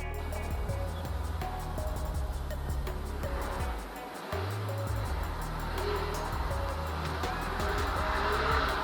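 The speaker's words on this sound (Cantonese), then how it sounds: "一部得114匹嘅車都可以玩漂移㗎" A 2012 Toyota Comfort GT-Z Supercharger taxi, front-engine rear-drive with 114 horsepower, revs hard while tires squeal and screech in a long drift, loud and close, with the engine note dipping briefly mid-slide.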